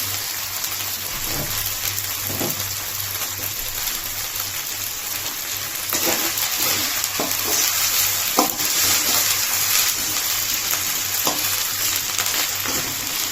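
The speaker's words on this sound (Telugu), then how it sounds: "జస్ట్ రెండు స్పూన్లు అల్లం ఉల్లి ఇది బాగా వేగనేయాలి బాగా ఫ్రై అవ్వాలి" Ginger paste and onion frying in oil for a restaurant-style chicken curry give a loud, steady, rain-like sizzle up close, with occasional scrapes and taps of a stirring spoon.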